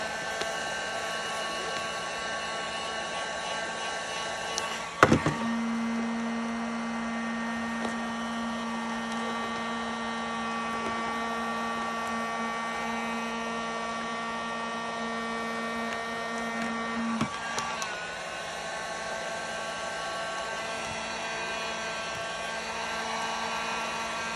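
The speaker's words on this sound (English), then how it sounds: "I try not to hold my heat gun on the band, but if you gotta put a little heat" A steady, loud heat gun blower roar runs throughout while wrapping with Velcro, with a brief click or shift in pitch near the start and again near the end.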